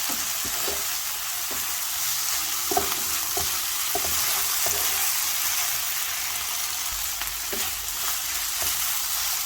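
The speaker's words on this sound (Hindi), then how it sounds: "इसको मिक्स कर लेंगे अच्छी तरह से।" Chicken quesadilla filling with ketchup frying in a pan, a steady loud sizzle throughout with repeated soft scraping taps of a spoon stirring, no voices.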